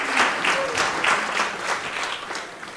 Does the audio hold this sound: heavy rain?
no